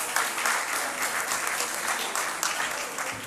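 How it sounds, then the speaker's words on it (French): An audience at an award ceremony for a Malian airport director gives a sustained, even round of applause from many hands, dense and fairly close, with a little murmuring mixed in. "Merci, on les applaudit très fort."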